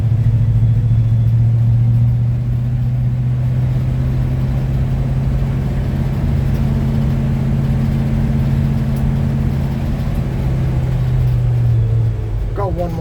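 A 1966 Chevy C10 pickup running on a stock 350 V8 taken from a 1992 Chevy truck gives a loud, steady low rumble that holds evenly for the whole stretch, with a slight shift near the end.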